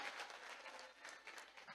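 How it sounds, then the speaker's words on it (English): Audience applause at an International Women's Day special lecture, a steady patter of clapping lasting under two seconds, fairly faint and distant with no talk over it. "A round of applause to all of them."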